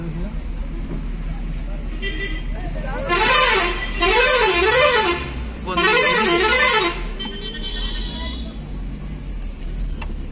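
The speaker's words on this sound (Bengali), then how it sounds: "এই যে সকালবেলার দেখো বাস, এই যে বাগদা দীঘার বাস মনে হয় এটা" A morning Bagda–Digha route bus passes on the road near Digha Mohona, sounding three loud, wavering horn blasts in quick succession over a steady rumble of traffic.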